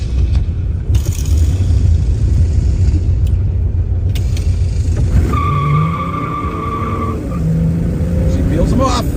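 A Pontiac GTO muscle car drives and accelerates, its engine rumbling loud and close with a rising whine as it runs through the gears, ending with a short tire squeal. Voices talk over it.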